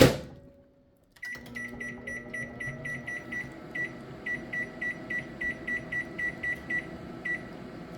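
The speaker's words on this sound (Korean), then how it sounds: "요거 꽃을 여기다 넣고 전자레인지에 한 10분 쪄주겠습니다." Microwave oven running while steaming peony flowers in a covered container: a low steady hum with a clunk as it starts, then a repeating series of short electronic beeps at regular intervals.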